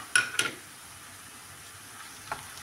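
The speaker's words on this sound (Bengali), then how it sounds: "পেঁয়াজটা ভাজার পরে আমি দিচ্ছি চিংড়ি" Prawns go into a pan of onions already frying in oil, giving a couple of quick sizzling bursts up close before settling into a faint, low background sizzle.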